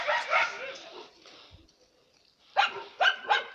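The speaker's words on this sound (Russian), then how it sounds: "А вот там еще один пес у соседей." A neighbour's dog barks in a short burst of several yaps, then falls quiet and barks again three times, fairly distant and moderately loud.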